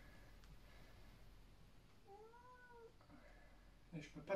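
A house cat gives a drawn-out meow amid faint room noise, with softer meow-like sounds before and after and a rustle at the end.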